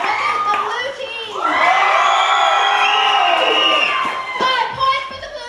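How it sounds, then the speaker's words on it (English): A comedy sports improv crowd roars for the blue team, with shouts, whoops and scattered clapping swelling to a loud sustained cheer before tapering off. "applaud for which team you prefer, just louder for the one you want to win 5 points"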